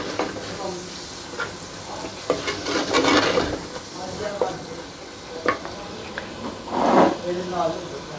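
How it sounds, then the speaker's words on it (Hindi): Ground coriander and spices sizzle in oil in a pan for a kulfa saag chicken dish, with bursts of stirring and scraping that swell and fade under a voice speaking nearby. "और मसाले को थोड़ी देर के लिए फ्राई करेंगे।"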